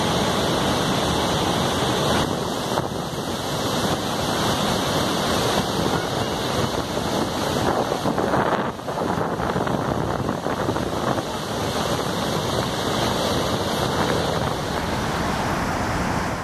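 Victoria Falls in Zambia roars as a dense, unbroken wash of falling water, steady and loud throughout, with wind buffeting the microphone.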